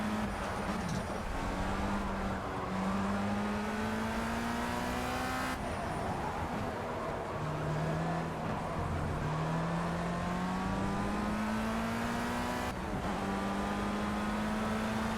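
A race car engine in the racing game Project Cars drones loudly and continuously around the track, its pitch climbing and dropping through repeated gear shifts and accelerations, with no talking.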